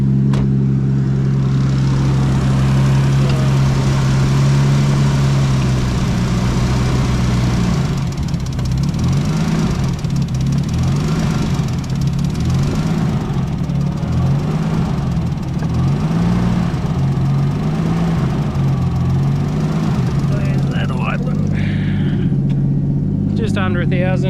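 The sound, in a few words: Nissan RB20 engine idling in an R31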